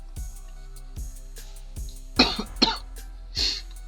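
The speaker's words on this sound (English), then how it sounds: "if you hear me coughing, it's no big deal." Several short, close coughs and throat-clearing sounds come in uneven bursts, with low thumps between them.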